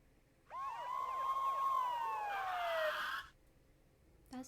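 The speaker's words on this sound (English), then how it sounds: "The police! Sounds like they're coming this way." A police siren from the Ace Attorney video game wails and sweeps in rising and falling tones, loud and alone for about three seconds, then cuts off abruptly, followed by a brief faint knock.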